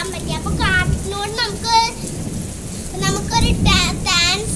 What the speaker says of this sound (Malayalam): നിങ്ങളുടെ നാട്ടിലൊക്കെ ഇങ്ങനെ മഴ ഇപ്പൊ പെയ്യുന്നുണ്ടോ?